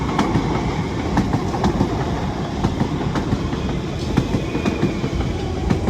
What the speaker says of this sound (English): Trains coming past. Let's watch this train go past.